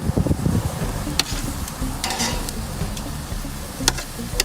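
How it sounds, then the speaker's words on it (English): Asparagus sizzles on a hot grill pan, a close steady frying hiss with scraping stirs and a few sharp clinks of utensils against the pan. "I'm gonna put these asparagus right back on the same pan."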